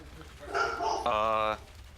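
A dog barking indoors, two short bright yelping barks in quick succession, close and fairly loud.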